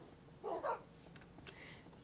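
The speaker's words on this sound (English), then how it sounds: "Just hear my dogs having their fit in the background." A dog gives a short bark or two at a distance, faint in the background, while cows are driven across a river in Minecraft.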